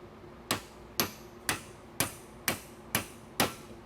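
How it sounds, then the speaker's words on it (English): A framing hammer taps a 14 millimeter socket on an old BMW Airhead motorcycle seven times at an even pace, each strike a crisp, ringing knock about half a second apart, with no talking. "Yes, I'm using a framing hammer."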